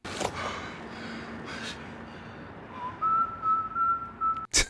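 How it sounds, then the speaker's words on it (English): A man whistles a tune in a short scene from the TV drama The Wire, a thin bright melody of several sustained notes in the latter half, preceded by a few breathy gasps and ending with a sharp sound. "He whistling like a freaking whimsical fairy tale character"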